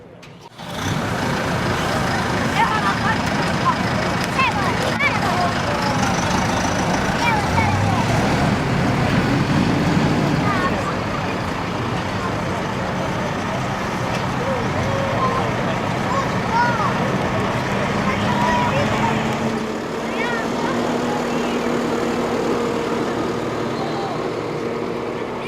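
A tractor with a mower drives off at a night farm machinery demo at Traktor Forum 2017 on the Korenjak farm in Dramlje: a loud, close, continuous diesel engine drone that shifts pitch as the tractor pulls away.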